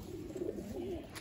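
Pigeons kept in a net give a soft, low, wavering coo, close but faint, repeated a few times in one short phrase.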